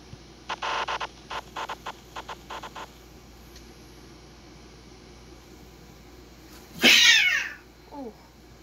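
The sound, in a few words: cat meowing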